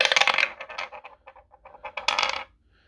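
Small dice for a board wargame clatter and tumble across a surface in two quick bursts of rattling clicks, close and fairly quiet, with silence between and after.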